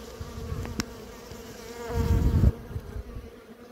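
Bees buzz inside a Kenyan-style hive, a close, low, continuous hum that swells louder near the end before easing off.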